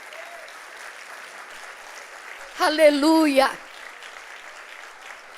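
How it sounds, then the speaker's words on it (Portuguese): A church congregation at a Quadrangular service keeps up steady applause throughout, while a single voice rises loudly over the clapping in the middle with an exclamation. "Pode aplaudir Jesus"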